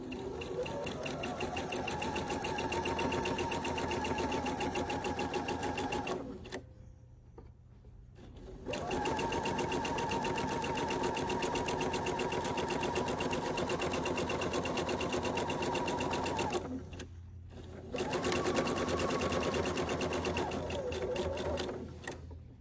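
Sewing machine stitching a seam on a quilt block for a diamond-pattern quilt, running in long steady whirring bursts of several seconds with short quiet pauses between, close and fairly loud with no voices.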